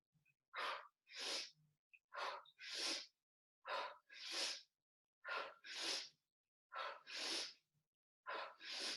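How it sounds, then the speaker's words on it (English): Breathing paced to an arm exercise comes in four close, loud cycles, each a quick sharp inhale followed by a longer forceful exhale, separated by short silent pauses. "So I recommend inhale up, exhale down. And you can follow my breath if you wish."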